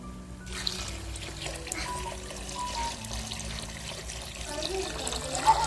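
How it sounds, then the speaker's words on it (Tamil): Water poured into a pot for cooking banana flower biryani, a continuous gentle splashing and trickling that stays fairly quiet and steady throughout. "தண்ணி சேர்த்திக்கலாம்."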